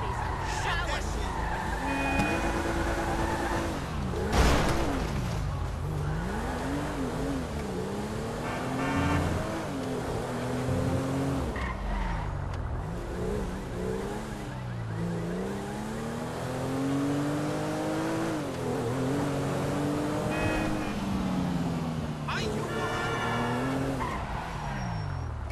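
A car engine revs and whines through gear changes while tires screech in skids in GTA 5, loud and continuous, with voices talking over it.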